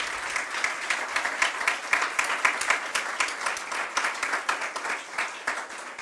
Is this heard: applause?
yes